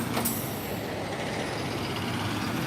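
A bus pulls in on a street in Odaiba, Tokyo, with a sharp hiss of air brakes near the start over a steady, fairly loud engine rumble that continues throughout.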